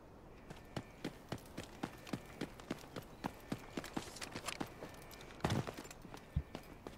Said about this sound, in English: Yeah, I hear footsteps in here.